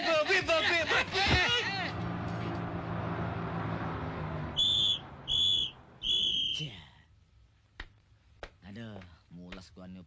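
A parking attendant's whistle gives several short sharp blasts in a row after a stretch of lively talk, then people speak again near the end.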